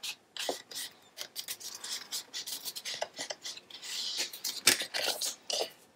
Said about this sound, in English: I need to hand trim just that little bit of white that wanted to fold in the trimmer.